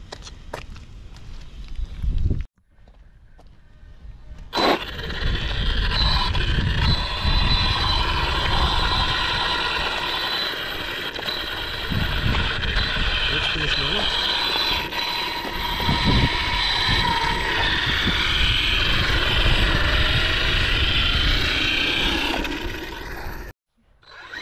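Large X8-scale Outcast RC car driving across a meadow and jumping ramps on a cool winter day, its motor whirring loudly and steadily up close for about twenty seconds after a short gap, with rough rattling bumps throughout.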